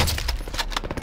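Gunfire in an online shooter game crackles in a rapid burst of shots, with thuds and impacts mixed in, ending in a louder sharp crack.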